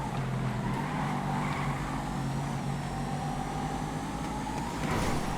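A Massacro sports car races around the North Loop track in GTA, its engine holding a steady, loud high-revving drone with slight pitch shifts and a rising surge near the end, close and continuous without speech.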